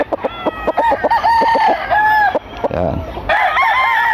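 A three-year-old prize-winning rooster in a backyard crows loudly and close by, with clucking and a voice in the background.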